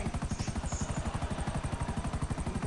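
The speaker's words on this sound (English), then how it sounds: "Are you watching me fly the helicopter around?" A helicopter flies in a PS4 video game, its rotor thumping in a steady, fast chop that stays loud and even from start to finish.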